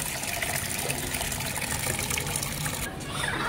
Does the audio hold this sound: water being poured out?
yes